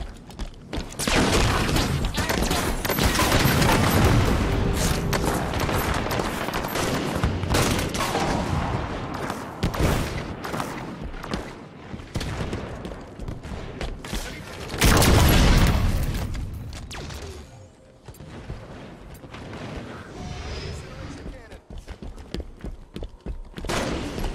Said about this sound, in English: Sniper fire, move it!